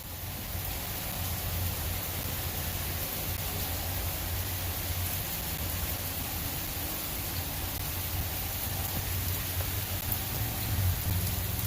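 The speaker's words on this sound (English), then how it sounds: "yeah, it's starting to rain." Steady rain falls with a dense, even hiss of drops on surfaces, continuous and fairly loud throughout, with no voices.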